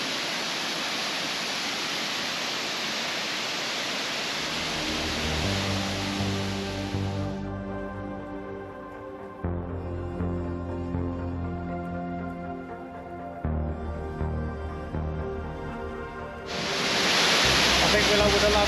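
A waterfall roars as steady, loud broadband rushing water at the start and end, dropping to a quieter wash beneath music in the middle stretch.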